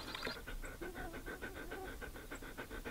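A puppy pants in quick, steady breaths close by outdoors near a remote lakeside property, with low background rumble and no talking.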